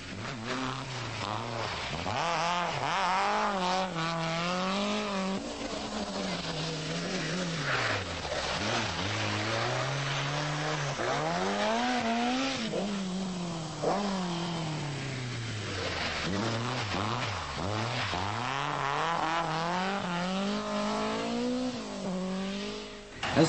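Rally cars from the 1984 RAC Rally race through tight hairpins on a narrow log-lined forest stage on a chill November afternoon, engines revving and rising and falling continuously as each car brakes, turns and accelerates close by.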